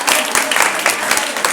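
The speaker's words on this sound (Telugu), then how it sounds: "చప్పట్లు కొట్టాలి." Hand clapping inside the stone-pillared Ramappa temple in Warangal, a quick run of sharp claps with ringing echo, mixed with voices talking nearby.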